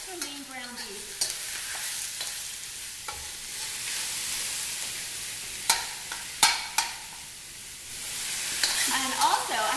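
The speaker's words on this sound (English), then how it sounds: "I lightly brown the garlic in a little bit of oil, and this is extra lean ground beef" Extra lean ground beef and garlic browning in a little oil, with a steady sizzle, scattered stirring scrapes and a few sharp utensil clicks, with no talking.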